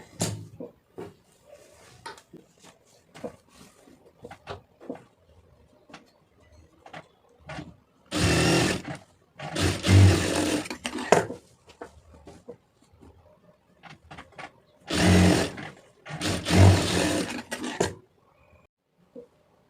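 An overlock sewing machine stitching a blouse shoulder seam runs in two short, loud whirring bursts, each lasting a few seconds, separated by quieter stretches of light handling clicks and fabric movement.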